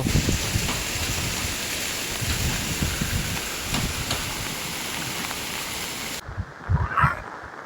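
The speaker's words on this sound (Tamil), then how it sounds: "நல்ல வேகமா காற்று அடிச்சோன் இருக்குது பாருங்க" Heavy rain roars steadily with strong gusting cyclone wind in a Jaffna village, a dense wash of noise that drops away abruptly near the end, followed by a few faint knocks.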